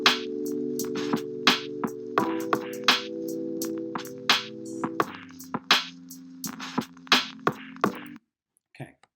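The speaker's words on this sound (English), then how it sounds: "just a simple 4-bar repeated pattern that sounds like this" A simple four-bar MIDI chord progression built in Soundation Studio repeats as sustained stacked chords that change every couple of seconds, with sharp rhythmic hits on top, then cuts off abruptly near the end.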